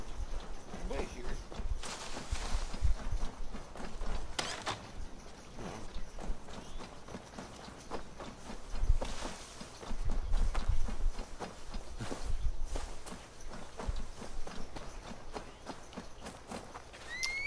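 Horse hooves clip-clop in the Assassin's Creed Valhalla video game, a steady, close walking rhythm of hoof strikes that carries throughout, with a voice speaking over it at times.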